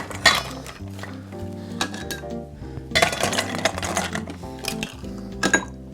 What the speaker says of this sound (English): we're going to use some cubed ice here